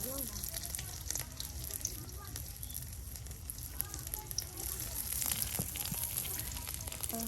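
Onions and green chilies sizzle steadily in hot oil in a pan, a continuous close crackling hiss that never lets up, with faint voices in the background.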